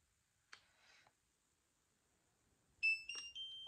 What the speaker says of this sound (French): Vous entendez la musique, il s'allume,